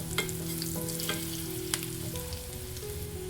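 Spices such as coriander powder, garam masala and amchur powder frying in a pan, a steady low sizzle with a few light stirring taps and scrapes, close and fairly quiet, without speech.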